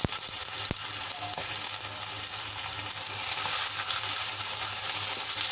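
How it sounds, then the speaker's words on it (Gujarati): Steady, loud sizzling of tomatoes sautéing in a kadai, a continuous hiss with a sharp clink near the start and no voices. "અને હવે એ જ કડાઈમાં આપણે ટમેટાને સાંતળી લેવાના છે"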